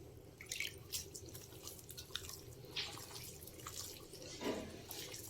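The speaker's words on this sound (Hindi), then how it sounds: "तो थोड़ा सा मैं इसमें पानी डालूंगी।" Water splashes and drips as a small amount is poured into a gram flour batter for chicken pakora, giving faint, irregular trickles and drops close by with no talking.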